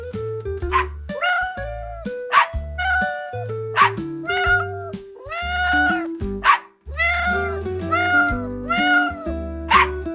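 A kitten meows over and over, rising and falling mews close by, with a few dog-like barks mixed in and a steady low tone underneath.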